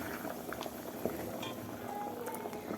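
Hot water bubbling at a boil in a pot for cooking rice, a soft continuous seething with small pops and gurgles, fairly quiet and close, with no talking.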